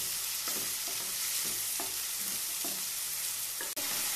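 Vegetables and tomatoes with salt sizzle in a pan for masala oats, with a soft constant hiss and regular stirring scrapes about every half second, quiet and close.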